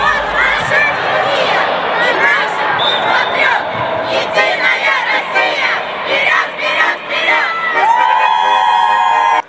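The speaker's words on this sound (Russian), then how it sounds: "Так дружно поддерживали свою команду болельщики из Гаврилов-Яма" Fans from Gavrilov-Yam cheer their team at a crowded sports competition in Yaroslavl, a loud, dense roar of shouts and chants that carries on without a break, with voices calling out in the crowd.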